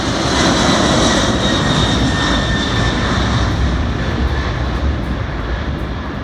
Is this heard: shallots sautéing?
no